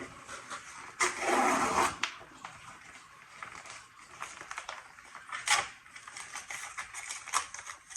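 A mailed package holding a book from a publisher is opened indoors, with crisp rustling and tearing of packaging in a loud burst early on, then scattered softer crinkles and handling sounds.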